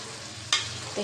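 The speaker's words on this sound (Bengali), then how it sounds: "মুরগি মাংসটাও কষাই নেব" Pieces of red chicken are stir-fried in a pan, with a low steady sizzle, one sharp scrape or splash midway and a softer stir near the end, all close by.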